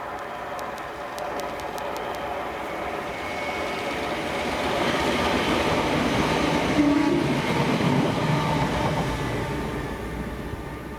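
A ScotRail class 318 electric train, unit 318258, passing by outdoors, a steady rumbling roar that swells toward the middle and holds, with faint rail clatter and no voices.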